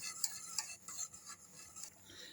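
Profiterole custard is stirred in a pot as it thickens: a spoon scrapes and taps rhythmically against the sides, faint and close, with a soft bubbling hiss beneath and no talking.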